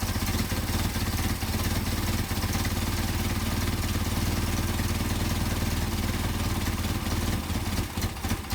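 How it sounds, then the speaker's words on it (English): A Mercedes 190SL engine with Solex 44PHH carburetors idles roughly up close while the idle mixture screw is adjusted, a continuous loud, uneven running with slight dips as it falters. "You can hear the engine falter, and then you screw it back out, and you hear the engine falter"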